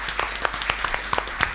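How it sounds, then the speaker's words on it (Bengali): Audience applause at a televised children's quiz competition, a burst of irregular, overlapping claps that continues steadily for under two seconds at moderate loudness. "জোরে একটা করতালি।"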